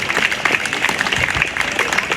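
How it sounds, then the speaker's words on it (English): Crowd clapping for a competitor at a Yorkshire strongman log lift contest, a short burst of lively, uneven applause with distinct individual claps at moderate distance. "and that's Tom Holland, big round of applause there."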